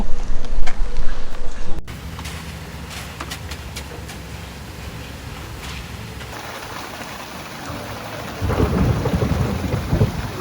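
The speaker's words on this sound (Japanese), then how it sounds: "雷。" Thunder rumbles over steady rain during a storm at an outdoor garden paving site, with loud bursts at the start and a heavy roll near the end and no talking.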